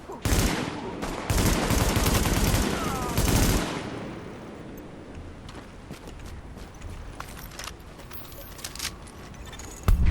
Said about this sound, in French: Attention, grenade. Ça fait du bruit hein.